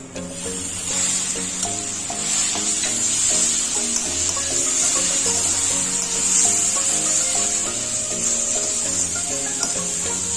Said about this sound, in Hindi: अब इसमें हम डाल देंगे हमारा लहसुन अदरक का पेस्ट।